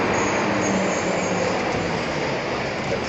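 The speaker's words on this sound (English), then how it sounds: "That's a number 1 train up there stopped above the 25th Street station there." A New York City number 1 subway train idles on elevated tracks above a station, a steady broad rumble of train and street noise filling the air with no break, heard from street level.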